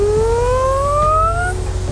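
A human voice imitates a Canadian police siren with one rising wail that slides smoothly upward for about a second and a half, heard over a steady low background hum.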